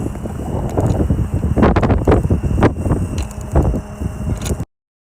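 Strong gusting wind on a Great Lakes shore buffets an outdoor camera microphone, producing loud, close rumbling and flapping bursts that rise and fall for several seconds before cutting off abruptly.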